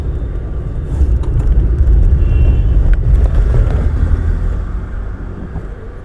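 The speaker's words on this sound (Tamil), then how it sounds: "வண்டி இவ்வளோ ஸ்பீடாக வந்துச்சு, நோட் பண்ணிங்களா?" Car engine in a driving-lesson vehicle rumbles steadily, rising in strength as it moves quickly, then easing and fading as it slows toward a stop.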